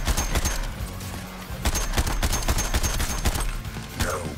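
Rapid bursts of gunfire aimed at a cannon in the Suicide Squad: Kill the Justice League video game, loud and continuous with sharp repeated shots over a busy battle mix.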